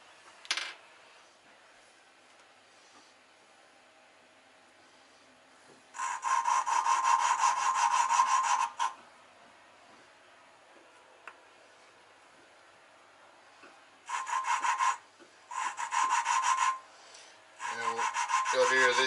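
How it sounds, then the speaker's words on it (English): Hand lapping a valve against its seat in a Nissan RB25DET cylinder head, a gritty rasping rub in separate bursts, one long stretch and several shorter ones, with quiet gaps between and no talking. "we're grinding the seat, not really the valve, the seat, to suit the way the valve is cut"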